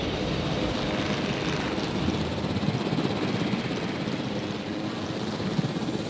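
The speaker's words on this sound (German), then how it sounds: "Da brauchen wir wieder den Heli. Da fliegt der andere." A helicopter flies in the dinosaur park game Jurassic World Evolution, its rotor and engine making a steady, dense, loud whir that holds without a break.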